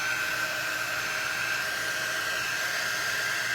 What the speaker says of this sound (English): All right, let's dry it. Yeah, if I can reach my dryer.